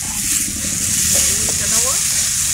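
Garlic frying in hot oil in a Bengali home kitchen, a steady broad sizzle lasting a few seconds, with faint stirring and a voice speaking over it.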